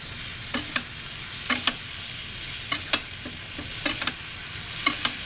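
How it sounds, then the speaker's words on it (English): Steaks sizzle in a pan turned down to medium while being basted with garlic butter, a constant bright hiss broken by regular spoon scrapes and clinks against the metal, close and loud, with no talking. "We'll bring this temperature down to medium, and we will baste our steaks."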